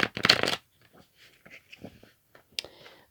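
A deck of playing cards is riffled and shuffled during a card reading, giving one loud, dense burst at the start and then sparse, quiet handling clicks and rustles.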